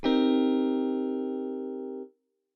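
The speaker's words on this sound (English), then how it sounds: "A 7th chord is a chord with a 7th on top." A single sustained four-note seventh chord rings out evenly for about two seconds, then cuts off cleanly; a bright synth-like tone with no talking.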